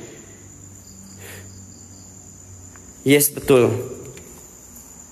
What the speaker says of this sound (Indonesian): Dari jangkrik